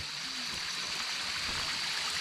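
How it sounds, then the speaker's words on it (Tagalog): Water runs down from the top of a mountain in a small stream forming mini falls, a soft continuous rushing and trickling heard faintly throughout. "Tsaka malakas yung tubig"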